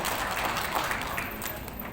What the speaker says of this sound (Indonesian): tepuk tangan untuk Pak Rukman.